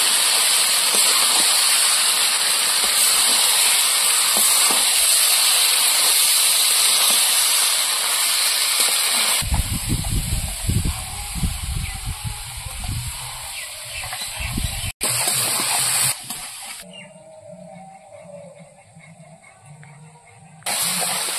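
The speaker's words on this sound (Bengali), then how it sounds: "এবার মাংস দিয়ে দেবো। মাংসটা এবার ভালো করে কষিয়ে নেব।" Rooster meat from a White Leghorn cock is stir-fried in spiced masala over an open fire, giving a continuous strong hiss and sizzle that drops and shifts partway through as it is stirred.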